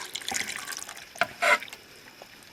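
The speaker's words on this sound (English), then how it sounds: "just fill up your cup with water" Tap water is poured into a cup to measure the fill for a single-serve coffee maker, a quiet splashing trickle with a brief louder gush near the middle, heard alone.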